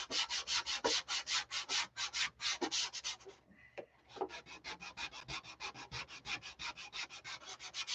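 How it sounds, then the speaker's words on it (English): Steady back-and-forth rasp of sanding on a wing, a quick regular rhythm of close strokes with a brief pause partway through, no voices. "I'm going to quit sanding here when I get this wing done"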